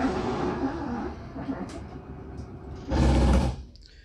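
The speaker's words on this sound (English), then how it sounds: "We hear that ratchety noise." Electric slide-out on a 2021 Salem 31KQBTS bunkhouse travel trailer reaches full extension and its slip gear ratchets, a close mechanical grinding and clicking that swells into a loud burst near the end.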